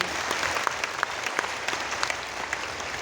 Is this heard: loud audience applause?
yes